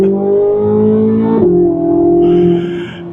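A 2024 Chevrolet Corvette C8 Z06 revs at part throttle, close and loud, its engine note climbing smoothly, dipping briefly after a shift, then rising again before easing off.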